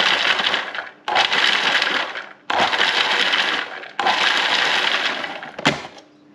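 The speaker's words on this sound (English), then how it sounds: "I just chopped up that celery into chunks, and now I'm gonna give it a few pulses" A small food processor pulsing chunks of celery: four loud whirring bursts of about a second each, separated by short pauses, the chopping blade rattling hard against the pieces, with a final clunk.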